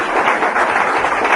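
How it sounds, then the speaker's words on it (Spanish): A church congregation applauds, giving steady, fairly loud clapping that fills the room without a break. "Démosle un aplauso bien fuerte al Rey."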